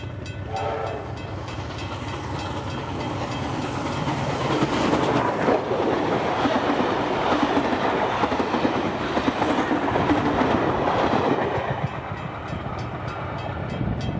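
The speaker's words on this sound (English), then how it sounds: "3642 hauling a train from Sydney, thundering through Douglas Park with a Thirlmere flyer" Locomotive 3642 hauling a train from Sydney through Douglas Park as a Thirlmere flyer, a steady loud rumble of wheels and clattering carriages that swells as it passes, with a horn note at the start, then fades.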